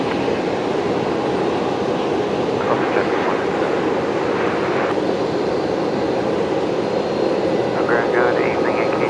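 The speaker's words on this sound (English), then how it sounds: "velocity 1720 just arrived from Gladstone. That Fokker there." A Fokker airliner arriving at Brisbane Airport in the evening from Gladstone gives a steady, broad engine roar that holds throughout, with faint radio-style voices underneath.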